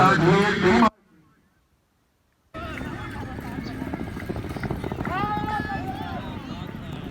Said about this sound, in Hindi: ये घोड़े वार्म अप हो रहे हैं, इनकी रेस है।